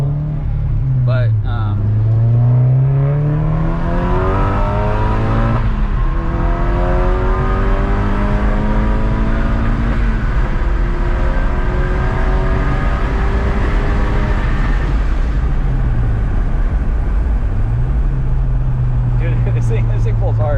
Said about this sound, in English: This thing pulls hard. This would definitely pull on my car for sure.